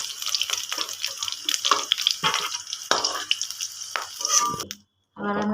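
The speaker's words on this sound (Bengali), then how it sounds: "এবার আমি হালকা করে বেগুনটা ভেজে নেবো, বেশি ভাজবো না" Eggplant pieces fry in a pan with a busy, close sizzle broken by clattering utensil scrapes and stirring knocks, ending in a short pause and then a fresh burst of frying.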